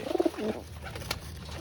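Pigeons at a bird market give a couple of close, throaty coos, then the calls fade into low background noise.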